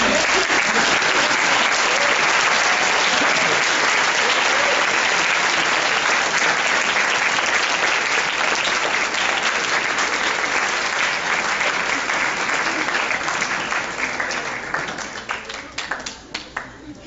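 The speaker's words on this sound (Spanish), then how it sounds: "Pueden aplaudirme." An audience applauds a speaker at a lecture on drugs and criminality, with dense, sustained clapping that fills the room for many seconds before thinning into scattered claps at the end.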